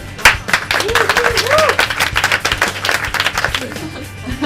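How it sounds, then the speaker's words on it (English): Audience applause for a flying winemaker being introduced at a wine and Indian leg of lamb pairing event, steady clapping throughout with a voice and tonal sounds rising over it. "So give him a round of applause."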